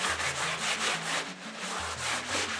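Damp kitchen paper towel rubbed across a painting, a steady close scrubbing of rhythmic back-and-forth strokes with a soft, breathy texture throughout.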